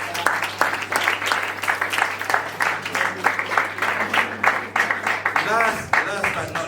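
Applause from a school audience at a STEM event in Malaysia, a dense steady clapping that fills the clip alongside a steady hum and fades near the end.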